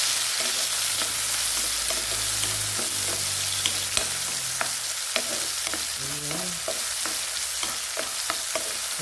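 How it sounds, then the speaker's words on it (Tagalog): Onion and tomato sizzle in hot oil in a pan, sautéed as the base for a simple sardine dish. A steady frying hiss runs under repeated scraping stirs, close and continuous. "Magisa ko og lamas guys"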